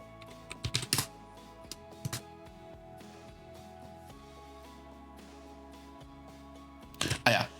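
Someone types a Linux terminal command on a computer keyboard: a quick cluster of close keystrokes, a few isolated taps, then a final rapid burst after a quiet stretch with a faint steady hum beneath.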